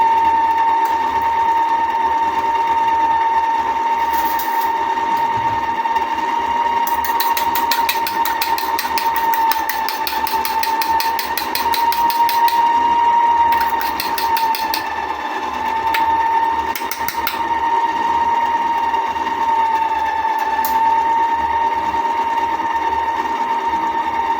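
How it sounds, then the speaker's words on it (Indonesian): Steady whine of an electric mixer beating eggs on low speed, continuous and fairly loud close by, with brief rattling bursts as the beaters knock against the bowl. "Untuk telurnya kita kocok terlebih dahulu ya."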